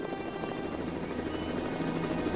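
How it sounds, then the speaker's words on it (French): A helicopter drones steadily with a dense, throbbing rotor chop and engine buzz, loud and constant as it hovers nearby, no voices over it. "Aïe, un hélicoptère maintenant."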